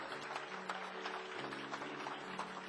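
Congregation of the Nova Vida church in Vila Isabel applauding during a service, a steady dense wash of clapping that fills the room at even loudness, with a low sustained tone underneath.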